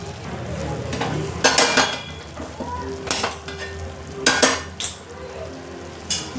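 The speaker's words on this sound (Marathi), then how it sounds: "मी इकडे ना कांदे भाजून घेते मस्त तव्यावरती" Onions roasting on a hot tawa griddle at home: a steady sizzle runs throughout, broken by several loud metallic scrapes and clinks of a utensil against the pan.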